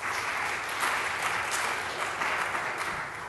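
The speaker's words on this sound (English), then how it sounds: "can we get a big round of applause for all the people who took the time out of their days to come and present to" An audience at a presentation event applauds the presenters with dense, sustained clapping that holds steady, fairly loud, for the whole stretch with no talk over it.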